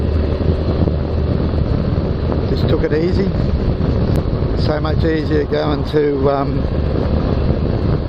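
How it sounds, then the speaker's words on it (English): Strong wind buffets the microphone in a steady, loud roar throughout, with someone talking over it partway through. "except it was very windy."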